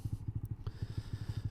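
Honda Monkey motorcycle fitted with an aftermarket exhaust, a steady rapid low thumping putter from the single-cylinder engine while riding, close and even, with a faint click partway through.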